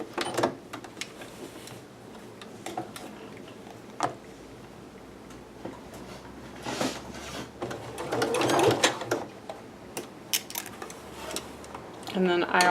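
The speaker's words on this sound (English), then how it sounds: "I'm going to baste that part first. Using my basting stitch," A sewing machine running a long basting stitch on a Butterick 6322 bodice piece, its rapid mechanical ticking coming in uneven bursts up close, with handling clatter and rustling between runs.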